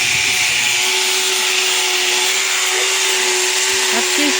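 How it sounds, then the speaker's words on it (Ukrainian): A loud, continuous whine of an angle grinder cleaning an old, roughly 50-year-old metal mailbox, steady and close throughout. "Попросила синулю, щоб он мне болгаркой очистил"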